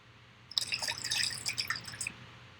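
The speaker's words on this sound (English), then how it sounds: "there is the sound of water in the background" Water drips and trickles in a quick, irregular patter for about a second and a half after a quiet start, with no talking.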